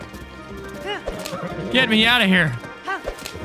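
Horse hooves clip-clop in the Zelda game Tears of the Kingdom, near a riverside stable, with whinnying tones mixed in, heard under someone speaking over the gameplay.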